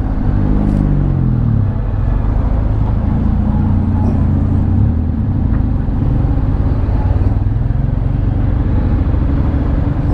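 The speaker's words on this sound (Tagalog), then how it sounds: "Traffic pag gabi na" Continuous road traffic at night, a dense steady rumble of passing cars and motorcycles with no gaps, heard from within the flow of vehicles.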